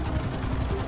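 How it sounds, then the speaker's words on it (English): A helicopter flying in the video game GTA 5, a steady whirring rotor and engine drone held at an even level throughout, without talk. "this is the annoying part about controlling the helicopter in GTA 5."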